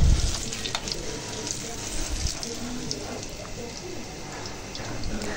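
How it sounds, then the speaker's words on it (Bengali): Potato chops (aloo chop) deep frying in hot oil for iftar at home give off a steady, close crackling sizzle that runs throughout, with a louder burst at the start. "এখানে হচ্ছে আলুর চপ ভেজে নিতেছি।"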